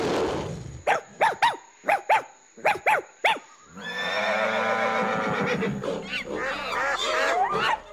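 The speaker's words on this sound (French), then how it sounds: "ça finirait par des aboiements et des cris de bébé" Five or six sharp dog barks in quick succession, then a long, wavering, horse-like whinny or cry that runs to the end, with no talking.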